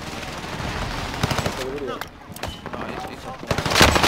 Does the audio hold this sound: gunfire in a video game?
yes